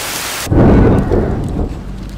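Heavy rain pours down steadily at Ke'te' Kesu, Toraja, while a deep rumble of thunder rolls through, loud and close.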